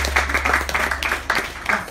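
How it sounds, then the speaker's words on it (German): A theatre audience at a cabaret gives welcoming applause for a performer, a short burst of loud, close clapping under a low steady hum. "Vielen Dank, liebe Zuschauer, für den Auftrittsapplaus"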